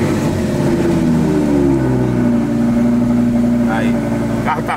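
A car engine, still cold, turning over and settling into a steady idle, with a low continuous hum and some rising revving tones, heard up close while someone talks over it.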